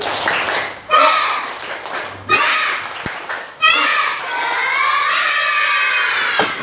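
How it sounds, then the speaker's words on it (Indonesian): Schoolchildren in a combined-grade classroom do a spirited rhythmic class clap, with bursts of clapping mixed among loud children's voices and chatter throughout. "Tepuk semangat."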